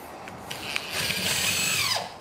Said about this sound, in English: you can help me put in these 1-inch screws